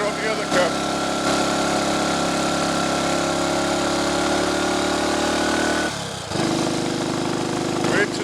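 A Triumph Tiger Cub trials replica motorcycle engine runs steadily and loud out on country lanes, then drops briefly near the end as a gear changes before picking up again at a new pitch; talk is faintly present.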